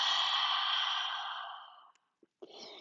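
A long, audible exhale during a vigorous vinyasa yoga flow, a soft airy sigh that fades out over about two seconds, followed by a short quiet breath.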